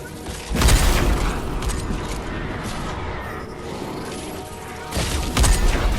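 The Third Rail sniper rifle in Fortnite Save the World charges up with a mechanical, creaking whine, and two loud broadband bursts land near the start and near the end over steady in-game noise.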